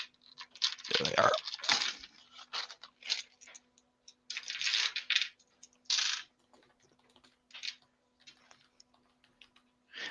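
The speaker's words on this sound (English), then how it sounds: "gonna roll some dice" Dice rolled for a tabletop game, landing as a rattling burst of small clatters early on, followed by scattered quieter clicks and taps across the stretch.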